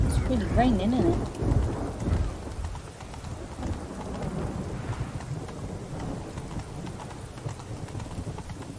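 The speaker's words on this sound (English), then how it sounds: "It's really raining, isn't it?" Steady rain pours with low rumbling like distant thunder in a video game, The Witcher 3: Wild Hunt, starting with a louder burst and settling into a constant wash, with faint voices in the background.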